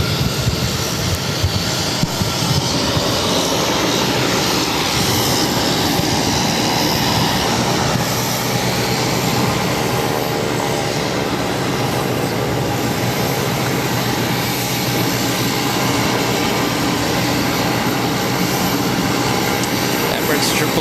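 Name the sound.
Embraer E190 jet airliner taking off at Boston airport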